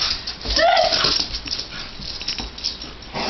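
A dog whimpers with a rising yip during rough play indoors, close and fairly loud, amid scuffling and sparse human voices.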